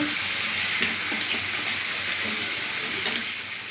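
Chicken leg pieces frying in a pan, a steady broad sizzle with a few scraping stirs of a spoon against the pan, close and fairly loud, no talking.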